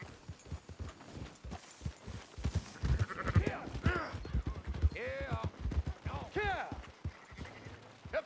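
Several sheep bleat in wavering cries amid hoofbeats and a busy Red Dead Redemption II game soundscape, with people talking over the top.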